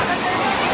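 The Bhivpuri waterfall in monsoon flood roars as a loud, continuous broadband rush of falling water, with faint voices of people mixed in.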